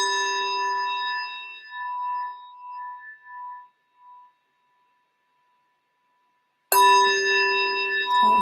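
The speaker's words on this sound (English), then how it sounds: "let me just ding a bell. I always feel like a dinging a bell is important." A bell is struck and rings with a clear sustained tone that slowly fades into silence, then a second strike rings out sharply and loudly, alone without talk.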